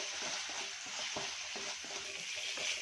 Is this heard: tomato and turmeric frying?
yes